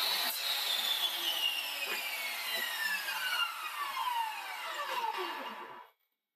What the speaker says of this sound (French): Je prends vraiment mon temps pour découper à la scie circulaire